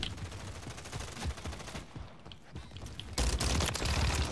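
Rapid bursts of automatic gunfire from a first-person shooter video game, loud and sustained with brief gaps, building to a denser barrage near the end.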